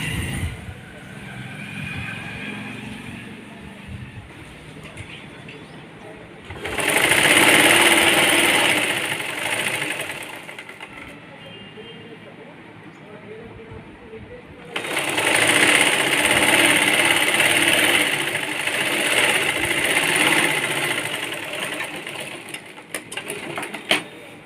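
A sewing machine stitches an umbrella frock in two long loud runs, each about eight to ten seconds, with quieter handling and background noise between and around them.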